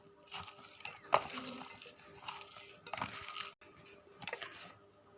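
Chopped cabbage, tomato, onion, coriander and green chilli being tossed together in a bowl, soft intermittent clinks and rustling stirs at close range, with a faint hum in the background.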